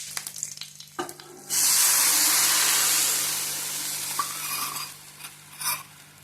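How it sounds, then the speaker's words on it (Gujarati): Thick batter poured into a hot pan of cumin seeds, asafoetida and curry leaves for onion tikki, setting off a loud, sudden sizzle that holds steady and then slowly fades, with a few soft utensil clinks toward the end. "હવે જે બેટર બનાવ્યું હતું તે એડ કરી દઈશું."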